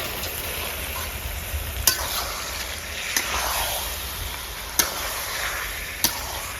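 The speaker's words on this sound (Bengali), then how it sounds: "এবার দিয়ে দেবো এখানে ম্যারিনেশন করা চিকেনটা।" Marinated chicken for chicken korma fries in hot oil with a constant sizzle, broken by a few sharp clinks of a utensil against the pan.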